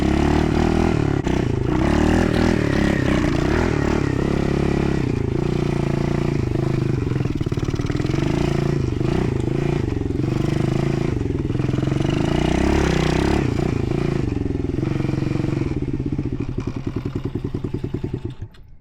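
A pit bike's small engine runs in a backyard, revving and rising and falling loudly with clattering mechanical noise, then dropping toward a sputtering idle near the end.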